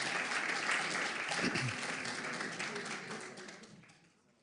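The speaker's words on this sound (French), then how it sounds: "On peut applaudir cette famille-là." Applause from a church congregation for a family at a celebration service, a dense wash of clapping that slowly fades away, with voices faintly mixed in.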